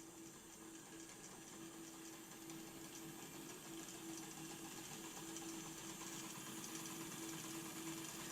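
A Hornby GWR Lode Star model locomotive runs at full power, giving a faint, steady mechanical whir with a constant hum and no voices.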